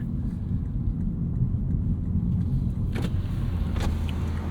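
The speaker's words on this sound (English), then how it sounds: "4 auto down windows." A 2024 Lexus IS 500's power windows hum as they lower, over a steady low V8 engine idle, with a brief mechanical whir near the end.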